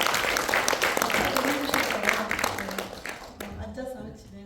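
Audience applause at a community education event, welcoming a professor, a steady wash of clapping that carries on for several seconds before thinning out toward the end.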